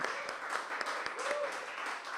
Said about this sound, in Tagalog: Yung malakas na palakpak para kay Lord.